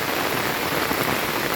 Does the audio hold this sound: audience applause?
no